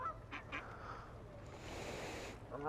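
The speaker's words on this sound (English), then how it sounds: "Look at the geese." Geese being fed give a few close honking quacks early on, then a rustling, noisy stretch follows with more faint calls near the end.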